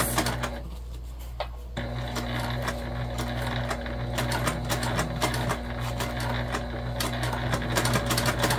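A sewing machine runs steadily while backstitching to lock stitches in fabric, a close continuous mechanical whir with a low hum and light ticking clatter throughout, no voices.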